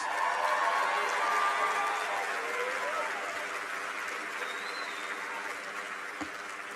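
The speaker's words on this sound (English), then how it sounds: "Give these folks, my friends, a big round of applause." A big audience applauds at a university undergraduate commencement, a broad wash of steady clapping with faint whoops and murmurs, slowly easing in intensity.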